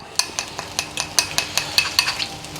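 Egg being stirred and fried in hot coconut oil, with a dense sizzle broken by a string of sharp, rhythmic clinks and scrapes of a utensil against the pan, close and steady throughout.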